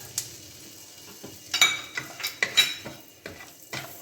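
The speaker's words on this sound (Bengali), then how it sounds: "এটাকে 30 থেকে 40 সেকেন্ড মতো একটু ভেজে নেব" Whole cumin, a dried red chilli and whole garam masala frying briefly in a pan, with soft sizzling and a few stirring scrapes and light metallic clinks spread through the clip, no talking.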